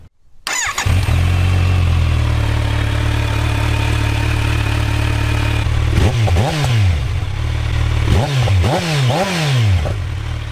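A 2022 Kawasaki Z900 motorcycle starts up and settles into a steady, rumbling idle, then its engine is blipped several times in quick rising-and-falling revs through the exhaust, close and loud with no talking.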